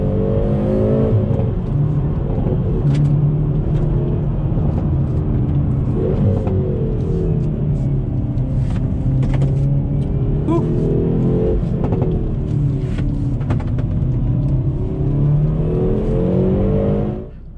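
A 2019 Hyundai Veloster N hot hatch drives and accelerates, its engine note climbing through the revs with shifts between gears, loud and steady from inside the cabin, without talk.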